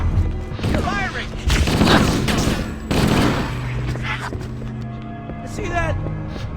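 Rapid gunfire rattles in bursts during a Heroic campaign battle in Halo: Combat Evolved, with booms and crashes mixed in and excited voices shouting over the action.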